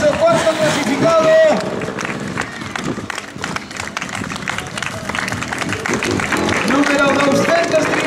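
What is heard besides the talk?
applause for fourth-placed runner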